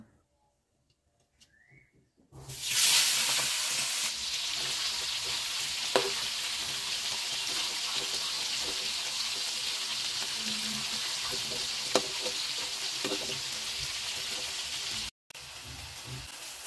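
Tengra fish, salted and seasoned, drop into hot oil with a sudden loud sizzle after a quiet moment, then settle into a steady close-up frying hiss with occasional sharp crackles and brief clinks.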